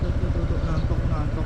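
A motorcycle engine idles steadily nearby with a low, even throb and light mechanical clatter, while people talk over it.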